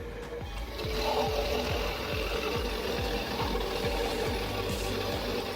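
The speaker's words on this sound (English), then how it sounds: "this giant machine processes logs into small pieces in a short time" A giant log processing machine cuts logs into small pieces with a loud, droning mechanical rumble that pulses in a steady, repeating cycle.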